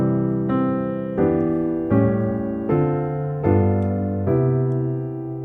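Jazz reharmonization of Twinkle Twinkle Little Star played as a 3-6-2-5-1 chord progression, six sustained full chords struck one after another at a steady, unhurried pace, each ringing and fading before the next, with no voices.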